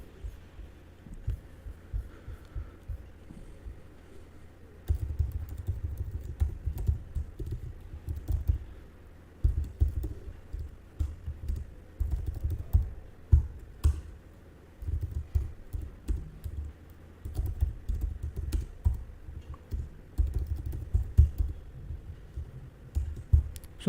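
Computer keyboard typing code, close and clear, with bursts of rapid clicking keystrokes separated by brief pauses over a quiet background.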